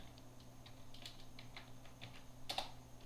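Computer keyboard keys tapped in a quiet, irregular run of light clicks, close and soft, with a slightly louder double tap near the end and a faint steady hum underneath.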